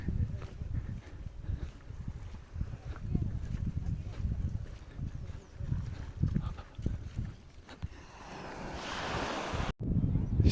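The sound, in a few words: ocean waves on the beach at Finisterre, Spain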